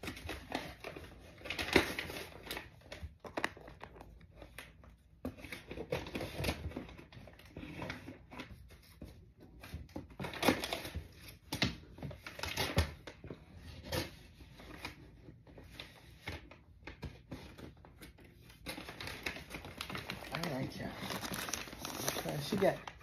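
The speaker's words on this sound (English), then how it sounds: "she's got a box and she's got it wrapped in the paper, so that's why I was like, if you don't like that noise" Paper wrapping and heavy tape being torn and crinkled off a box, with repeated rustling, crackling bursts throughout, close and fairly loud, mixed with someone talking at times.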